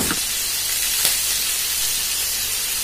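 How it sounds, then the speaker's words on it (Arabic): Onions and small lamb pieces sauté in hot oil in a pan, giving a steady, even sizzling hiss throughout. "وهنشوحهم كلهم في الزيت"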